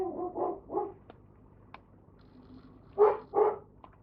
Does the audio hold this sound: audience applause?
no